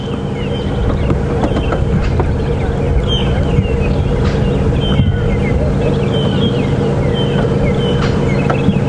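A francolin calls repeatedly in the distance over steady loud wind or vehicle engine rumble on a safari drive at Djuma Game Reserve, its harsh notes faint against the noise.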